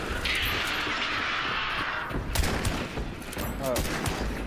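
Gunfire in the game Hunt: Showdown, a dense, continuous stretch of shots and rumbling blasts at steady loudness, with brief sharp cracks scattered through the noise.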